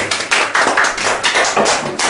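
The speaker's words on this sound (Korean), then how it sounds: "박수로 환영하겠습니다" Classroom applause greets a student team's presentation, a short burst of brisk, uneven clapping from a small group close by.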